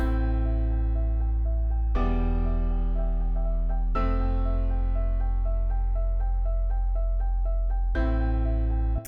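Afro house production: sustained chords change every couple of seconds while a bright repeating eighth-note figure pulses steadily on top, with no voices.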